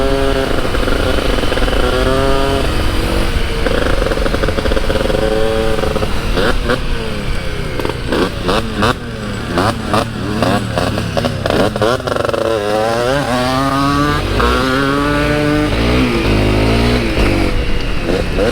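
A Honda CRF250L dirt bike on stock tires climbs hills, its single-cylinder engine revving up and down in repeated surges, loud and close, with rising pitch sweeps as the throttle opens.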